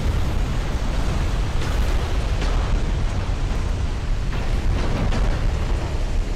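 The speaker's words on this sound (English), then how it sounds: "And we got the flash fire. Turrets go to space, baby." A warship's flash fire detonation in a naval combat game blows its turrets off, producing a loud, dense, continuous roaring explosion that holds unbroken throughout, with no talking.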